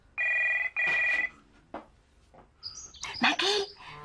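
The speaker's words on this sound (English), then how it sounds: "Phone! We'll answer it." A telephone rings in two loud, close electronic bursts, followed by a pause and then a stretch of voices and busier sound.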